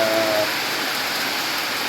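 Steady, dense hiss of rain falling, continuous and even throughout, with a brief faint tone at the very start and no voices.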